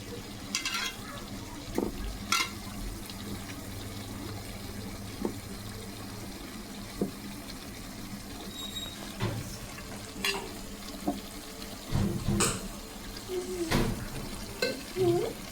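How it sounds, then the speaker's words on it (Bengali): Chicken leg pieces for a roast fry in a pan, a soft continuous sizzle punctuated by sharp stirring knocks and scrapes at irregular intervals. "দেন এখন রোস্টগুলা দিয়ে দিচ্ছি লেগ পিসগুলা দিয়ে দিলাম আগে"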